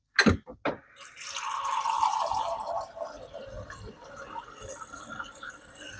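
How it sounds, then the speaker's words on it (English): A Keurig single-serve coffee maker brews hot coffee, opening with a few sharp clicks before a steady hiss and trickle of liquid filling a cup, close and continuous throughout. "let's make this in the Keurig. Make it nice and quickly."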